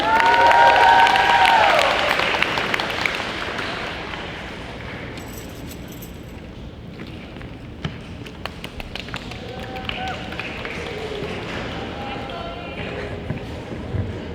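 Applause from a school audience at the Oxford Academy GAMSLAM 2022 event swells loudly at first, then fades into scattered claps and crowd murmur.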